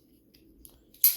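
An orange G10 custom Andrew Demko AD20 pocket knife flicked open by its thumb stud, a single sharp, bright snap of the blade locking out after a brief faint rustle.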